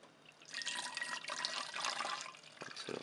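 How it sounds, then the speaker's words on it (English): Tap water pours into a 1-liter SodaStream bottle, a hissing, splashing rush that starts after a brief quiet moment, holds steady and thins out near the end. "let me fill this with water"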